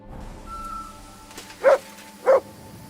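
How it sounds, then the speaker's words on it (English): A dog barks twice in the woods in the video game Kingdom Come Deliverance 2, two short, fairly close yips a moment apart over quiet ambient forest noise. "I heard dogs in the woods"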